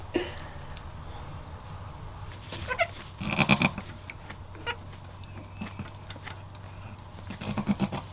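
Baby goats bleating in a barn pen in short, high, wavering cries, a cluster in the middle and a few more near the end, amid light rustling and shuffling, fairly close.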